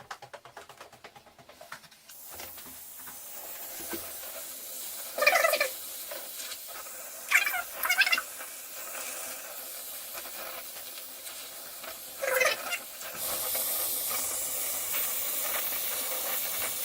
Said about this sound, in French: Ensuite, on met en place, on réchauffe et on soude.